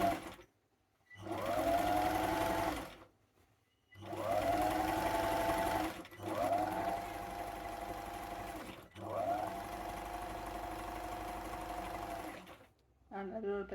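Sewing machine back-stitching and sewing forward along a drawstring bag, running in four steady whirring bursts separated by short pauses, loud and close, with no talk.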